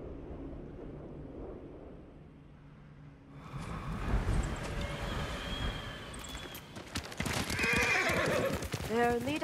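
A horse in Ghost of Tsushima whinnies and snorts over steady clip-clopping hooves, quiet wind at first, then louder hoofbeats and a drawn-out neigh rising near the end.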